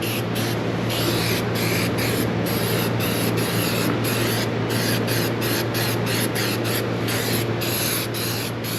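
A spray gun lays a textured epoxy coating on a 1964 Chevrolet Malibu, giving a loud, continuous hiss broken by short, regular gaps as the trigger is released.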